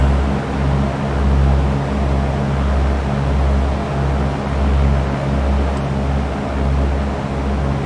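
Steady, loud propeller-plane engine drone from X-Plane 11 flight over South Kansas City, a continuous low rumble with slow pulsing swells that holds throughout with no talk.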